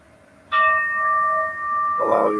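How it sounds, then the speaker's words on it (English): A meditation bell is struck once and rings with a clear, sustained tone that slowly fades, followed by a softer, noisier sound near the end. It is heard alone in a quiet room. "Allow your mind to go into the meditative state with the sound of the bell as it becomes fainter."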